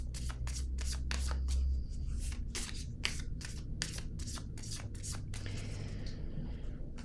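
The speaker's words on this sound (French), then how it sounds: "je vais piger une autre carte" Tarot cards are shuffled and drawn by hand, making a quiet, rhythmic run of papery slaps and riffles, about two per second, over a low background hum.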